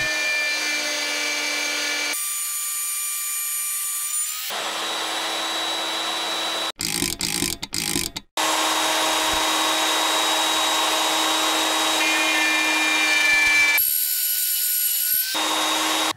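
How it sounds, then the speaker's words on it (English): A router table cuts grooves into wooden posts in two passes, the bit raised to about a quarter inch on the second. A loud, steady whine runs nearly throughout, with a brief pause and restart partway through and no talk. "Now I'm going to make the grooves in each post to receive the panels, and I'm going to do that at the router table"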